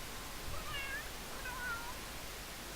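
A cat meows in The Sims video game: two soft, drawn-out meows, faint and fairly distant over a steady hiss of background noise, with no talk.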